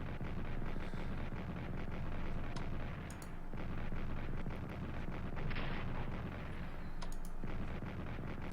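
Continuous rumbling artillery bombardment from level 1 artillery in the World War I strategy game Strategic Command, a dense low roar of distant blasts with a few sharper bursts layered over it, no talking.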